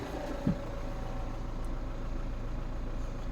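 Mini with an N47 diesel engine running rattly with a missing injector seal, a faint steady idle with a rhythmic knock and one brief louder tap near the start.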